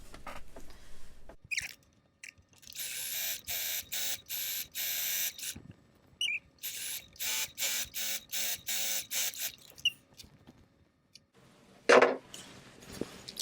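A sewing machine top stitching capris runs in rapid stuttering bursts with choppy, rhythmic needle pulses, stopping and restarting several times; close and fairly loud.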